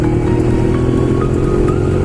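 A Ducati Monster 821 motorcycle accelerating on a test ride, loud continuous engine drone with steady rumbling and wind noise, no pauses.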